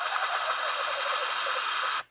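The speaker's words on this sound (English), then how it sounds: "I'm gonna pull vacuum for a sec." A coolant vacuum filler pulling vacuum on the cooling system of a 2018-2023 Volkswagen Atlas 3.6 during thermostat replacement: a loud, steady hiss and whoosh of rushing air that cuts off abruptly at the end.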